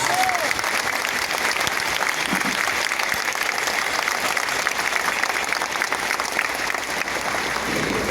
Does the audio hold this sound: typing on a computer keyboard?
no